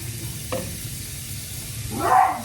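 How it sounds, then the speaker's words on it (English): Grated zucchini hitting a hot pan gives a soft sizzle, with a brief clatter as it goes in and a louder burst of frying near the end. "you're gonna add the grated zucchini to the pan"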